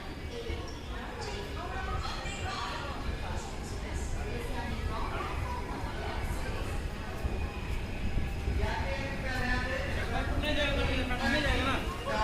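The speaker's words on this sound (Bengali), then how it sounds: "আমাদের ট্রেন খড়গপুর স্টেশন ছেড়ে বেরিয়ে যাচ্ছে।" A passenger train pulls out of Kharagpur station with a steady, low rolling rumble that carries on under people talking nearby.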